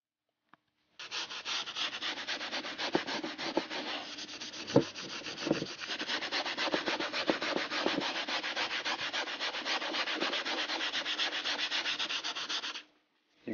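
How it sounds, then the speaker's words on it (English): Continuous rhythmic scuffing of 320-grit sandpaper rubbed back and forth over a plastic engine cover, close and steady for about twelve seconds before stopping. "You just want to scuff it up so the paint will stick."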